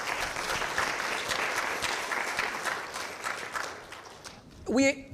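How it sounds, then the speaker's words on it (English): University fall convocation audience applauds in a sustained, moderately loud wash of clapping that fades near the end, followed by a brief burst of voice. "So give them a round of applause, even though they are not here."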